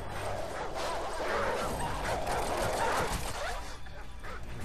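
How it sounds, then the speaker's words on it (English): Dogs attacking the player in the Call of Duty 4 video game, heard as a dense, continuous mix of snarling, barking and yelping under loud game noise. "that's a lot of puppies on me"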